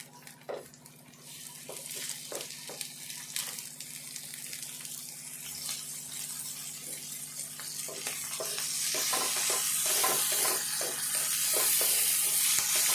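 Bitter gourd pieces frying in a pan with occasional stirring taps, the sizzle gradually swelling from a moderate crackle to a loud, dense hiss by the end, with no talking.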